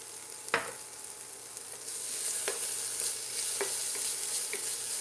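Chili frying in hot oil, a continuous close sizzle that grows slightly louder midway, punctuated by a few sharp clicks and taps of a utensil against the pan, no speech.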